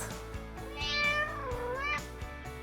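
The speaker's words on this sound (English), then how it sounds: "or a cat." Domestic cat meowing twice, a clear rising and falling cry over a quiet background with faint steady hum, close and moderately loud.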